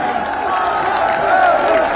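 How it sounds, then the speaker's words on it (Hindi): Crowd applauding Prime Minister Narendra Modi at the Jewar Airport foundation-stone ceremony, a steady wash of clapping and cheering that swells slightly toward the end. "आप सब तालियों के प्रणाम उन तक पहुंचाएं और उनका अभिवादन करें।"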